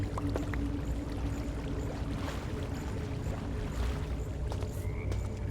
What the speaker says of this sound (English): I can hear frogs. Why do I hear frogs?